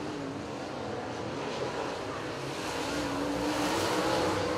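Late model race cars roar down the backstretch of a dirt speedway in a close side-by-side drag race, a loud steady wash of engine noise with no letup across the whole stretch.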